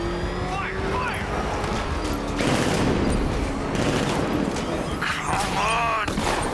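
Sustained gunfire fills a Batman: Arkham Knight battle, a dense continuous rattle of rapid shots with engine-like rumble underneath, while voices shout over the din.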